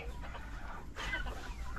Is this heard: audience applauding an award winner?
no